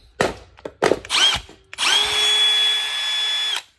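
A Milwaukee cordless drill, the 2553-20 or 2504-20 model, gives a few short trigger bursts and then one steady high whine for nearly two seconds before stopping, loud and close with no talk.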